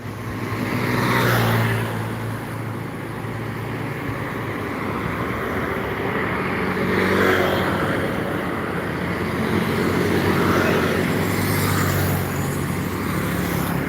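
Road traffic rolls along the eastern highway, with buses and vehicles swelling and fading as they pass nearby, a steady roar with several passing surges and no talking.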